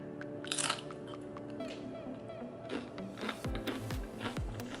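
Tortilla chips dipped in vegan spicy queso are bitten and chewed up close, with sharp crunches early on and a run of crisp bites toward the end, no talk over them.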